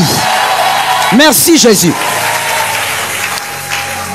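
A church congregation bursts into loud applause and cheering, a dense sustained clapping roar with a voice calling out briefly over it.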